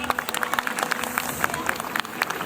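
A small crowd at a medieval knights' tournament at Łęczyca Royal Castle claps in scattered, uneven applause, with voices talking underneath.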